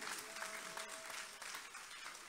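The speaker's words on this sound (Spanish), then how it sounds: "Regalemos ofrendas de aplausos en esta noche," Quiet, continuous clapping from a church congregation, steady and somewhat distant, with a faint sustained tone underneath.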